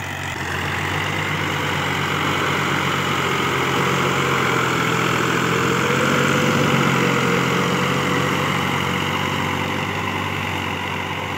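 A Massey Ferguson 385 tractor engine idles steadily in a continuous, loud low rumble, holding an even drone throughout with no talk over it.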